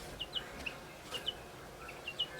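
Soft bird calls recur every half second or so against a low, steady outdoor hum, faint and somewhat distant, resembling hens clucking.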